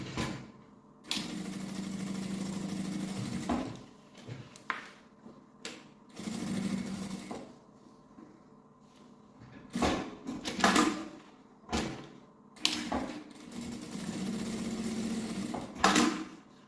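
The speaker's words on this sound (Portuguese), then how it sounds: "Aí eu vou passar uma costura bem na beiradinha, aqui, aqui, aqui e aqui na parte reta." A sewing machine stitches along the edge of fabric for a sling backpack. It runs in several steady, humming bursts of one to three seconds, broken by pauses and soft handling clicks.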